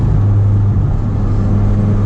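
A Ford Mustang EcoBoost with a big turbo, in third gear with AC and traction control off, pulls at wide open throttle with a loud, steady engine drone and rumble heard from inside the car.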